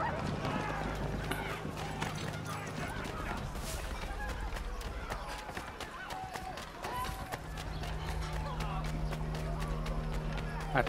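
Horse galloping in Assassin's Creed 3 Remastered, a steady run of hoofbeats under continuous game music and ambient sound, loud and sustained throughout.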